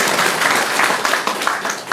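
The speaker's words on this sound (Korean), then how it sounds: "박수 한번 주세요." An audience at a town hall meeting with the county governor claps together in a loud, dense burst of applause that carries on for a couple of seconds.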